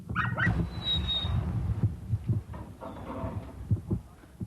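A dog whines and whimpers in short, uneven cries against a low rumbling background, fairly close, with brief pauses between the whimpers.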